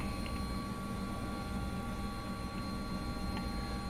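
Bell 407 helicopter in a flight simulator, cruising over Katherine (Nitmiluk) Gorge in Australia, its engine and rotor drone holding steady and loud throughout with no talk over it.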